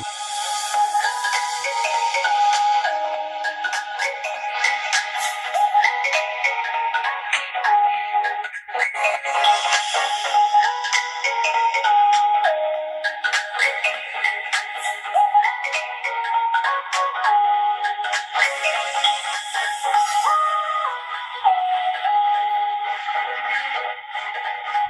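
A ringtone melody plays through the mono loudspeaker of a Realme 7i phone, a bright, steady, continuous tune with shifting notes lasting the whole stretch, no talking.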